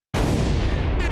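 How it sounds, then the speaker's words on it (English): A gunshot-and-bomb sound effect dropped into a podcast: one sudden, loud, close boom that hits after a brief silence and roars on for about a second, with no voices. "can you hit all sorts of drops, bombs, gunshots, or whatever to welcome us in?"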